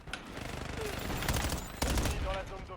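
Gunfire in the Warzone video game, a dense rapid burst of shots with a sharper loud crack near the end, heard under players talking.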